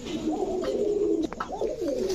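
Yellow Lahori pigeons with feathered feet cooing, a few rolling throaty coos close by with a brief rustle in between, moderately quiet.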